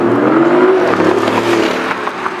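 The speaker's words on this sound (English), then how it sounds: "A rear 3-cylinder twin-power turbo engine" BMW hybrid car with a rear three-cylinder twin-power turbo engine accelerating, a loud rising whir and engine note that swells early and then fades as it pulls away.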